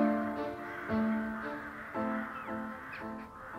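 Rooks and crows arriving to roost in Dales woodland give harsh, repeated caws, several birds overlapping in an irregular chorus at moderate distance.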